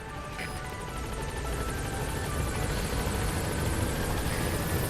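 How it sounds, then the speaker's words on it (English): Helicopter arriving in Metal Gear Solid V, a steady, loud rotor and engine drone that grows slightly louder as it approaches, heard alone without talk. "Helicopter, yes, please. Please landing zone confirmed."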